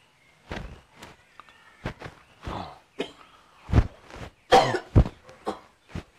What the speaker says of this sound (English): This cough looks like it's contagious.